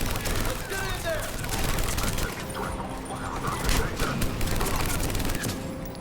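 Sustained heavy gunfire in the Mass Effect 3 video game, rapid overlapping bursts and impacts at a checkpoint fight, loud and continuous, with voices speaking over the shooting.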